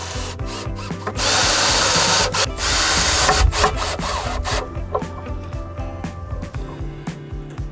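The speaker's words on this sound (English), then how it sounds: "pre-drilled the holes, added Tef gel, and installed the screws" Power drill driving screws into pre-drilled holes on a catamaran, loud bursts of whirring and grinding with short pauses and clatter between runs, close by.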